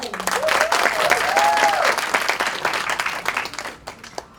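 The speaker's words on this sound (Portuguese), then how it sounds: "Uma salva de palmas para a empresária Brenda Leão!" A symposium audience on public speaking breaks into applause, loud and dense at first, with a brief whistle-like tone and a voice over it, before thinning out and fading.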